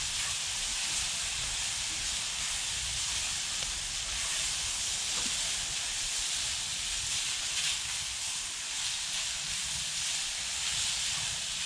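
Steady broadband hiss from a camping stove burner in use outdoors while supper of tomatoes and onions cooks during a winter backyard camp in Saskatchewan, continuous and fairly close, with no talking.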